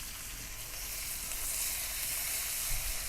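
Beef fajitas sizzle steadily in a cast iron skillet on a Kamado Joe grill, a loud, continuous crackling hiss with no pauses and no voices.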